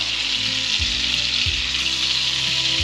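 Flour-dusted venison frying in hot butter, a steady loud sizzle and crackle throughout, with a few low thumps as pieces are set down in the pan.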